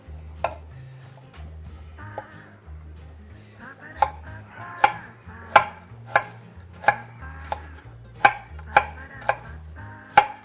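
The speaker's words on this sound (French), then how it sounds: "On va couper en petites lanières comme ça. En petites lanières comme ça, nos oignons." A knife slicing onions into thin strips on a cutting board, a run of sharp, evenly spaced chopping taps that quicken toward the end, close and clear over a faint low background tone.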